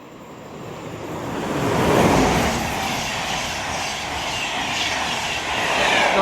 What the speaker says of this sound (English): Pass through now will be an LNER Intercity 225 set from London King's Cross to Leeds.